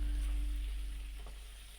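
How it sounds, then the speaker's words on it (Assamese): Urad beans fry in a pan with a steady, close sizzle and light stirring over a low constant hum. "এইখিনি মই উৰহি এনেকৈ ভাজি লৈছোঁ।"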